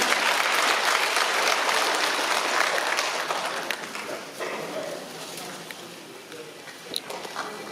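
A large audience at a Parents' Day ceremony in Pocheon gives sustained applause. The clapping is dense and close at first, then gradually thins and fades over several seconds, with a faint voice underneath.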